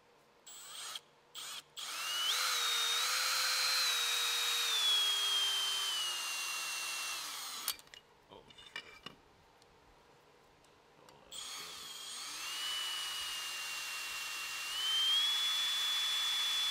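A power drill with a reverse drill bit, used during repairs on a Nissan S15 Silvia, whines loudly in two long runs. Its pitch sags and then recovers, with short bursts, a clattering pause and silent gaps between the runs.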